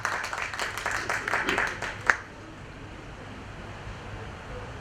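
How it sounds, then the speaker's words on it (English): An audience at a national conference inaugural session gives a short round of applause, many hands clapping for about two seconds before fading abruptly into quiet room hum. "Audience, please give a big round of applause to them."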